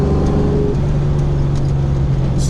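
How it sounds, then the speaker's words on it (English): A Coyote V8 swapped Fox Body Mustang making about 470 wheel horsepower growls steadily at close range, a deep, loud engine drone holding a constant note with a slight shift in pitch partway through. "you just hear it growling"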